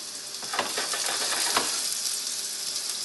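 Potatoes gently frying in oil in a pan with a sprig of rosemary, a steady soft sizzle with faint crackles throughout, close and continuous with no voices.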